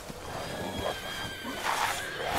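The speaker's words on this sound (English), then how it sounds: "Oh my God, they're on horses." Horses neigh in Resident Evil 8 over a dense, noisy game background, with a couple of whinnies rising partway through and toward the end. No voices are heard.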